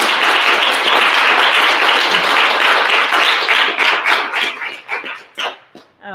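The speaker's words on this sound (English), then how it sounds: "Round of applause for" A large audience at the Montreal Review of Books fall issue launch applauds steadily and loudly. The dense clapping holds for several seconds, then thins into scattered final claps as it fades.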